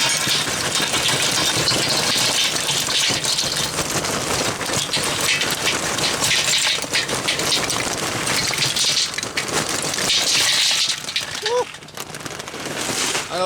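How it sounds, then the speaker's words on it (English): Loud mechanical work from neighbors fitting new tires on a truck across the street, with an engine rumbling and sharp impact clanks and rattles throughout, heard at a moderate distance. "Excuse the noise. My neighbors are putting new tires on the truck across the street."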